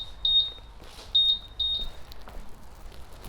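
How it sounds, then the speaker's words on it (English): Honda Monkey 125 (2018) alarm answer-back: three short, high electronic beeps in quick succession, clear and fairly close against a quiet background with no talking. "the latest Hondas has an alarm system with an answer back function. It gives a beep beep"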